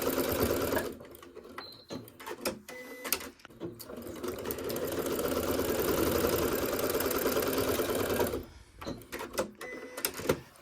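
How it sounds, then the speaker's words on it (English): A domestic sewing machine runs steadily down one side of a fabric block, its rapid mechanical stitching sustained for several seconds between short starts and stops, close and fairly loud, with no talk. "My sewing machine is already set, and I'm going to sew all the way down this side."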